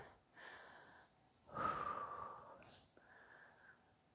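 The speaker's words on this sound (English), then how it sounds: "Breathing." Slow, steady breathing during a powerful vinyasa yoga flow, with about three soft, airy breaths, quiet and close, without speech.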